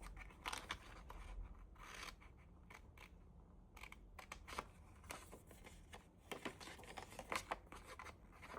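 Scissors cutting paper around a circle for a scrapbook camera album, a run of crisp, close snips and rustles at an irregular pace, fairly quiet, with no one speaking.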